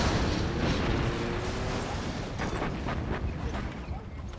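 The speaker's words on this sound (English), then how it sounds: "Artillery now coming. He's fired the artillery first, which is interesting." Artillery barrage in the real-time strategy game C&C Generals Zero Hour, a dense rumbling wash of blasts and booms that stays loud throughout, with a commentator's voice running over it.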